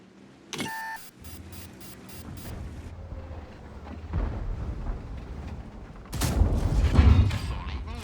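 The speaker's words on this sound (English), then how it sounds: "He's shooting AP rounds." Tank cannon fire and impacts in a tank battle game, with a short electronic beep sequence early, a rumbling engine bed, and a heavy booming blast near the end that rolls on for a couple of seconds.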